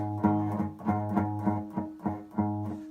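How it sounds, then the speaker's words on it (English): An acoustic guitar is strummed in a steady rhythm, the chords sounding muted and buzzy rather than ringing out, fairly quiet and close. "they might not even have the strength to push down the acoustic strings and have them ring out"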